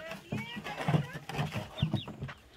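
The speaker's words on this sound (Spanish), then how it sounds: "Miren, ahí andan los pollitos," Chicks and chickens on a farm chirp and cluck with high, rising peeps scattered over a short stretch, mixed with nearby voices talking.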